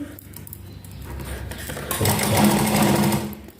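A sewing machine stitches buckram for a neckline, its motor whirring up from a soft start into a steady, louder run close by, with no talk.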